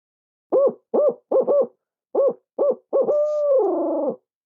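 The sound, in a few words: owl hooter call, hooting roll imitating an owl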